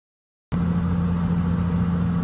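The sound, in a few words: Lexus car engine idling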